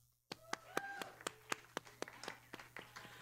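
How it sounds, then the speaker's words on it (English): A few people clap together in a small room, a thin scattered round of hand claps with distinct separate smacks in an uneven rhythm, fairly quiet, no talking over it. "Not that many claps."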